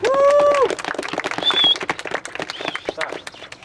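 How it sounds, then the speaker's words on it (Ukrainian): Scattered applause from a small outdoor group at a cycling quest award ceremony, uneven and fairly close, with a few whistle-like tones and voices mixed in. "Оплески"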